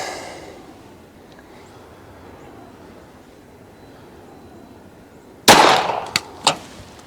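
A .380 ACP pistol fires one shot at a can on an outdoor range: a single loud, sharp crack after several seconds of near quiet, followed by a couple of quicker smaller impacts as the echo fades.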